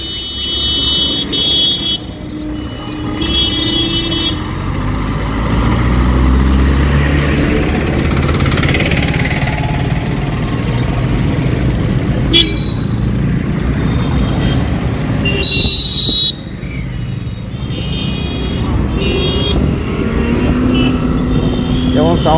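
Riding an Ola Roadster X Plus 4.5 kW electric motorcycle on a bumpy road in West Bengal, heavy wind rush and road rumble fill the whole stretch, with passing traffic and a brief horn toot.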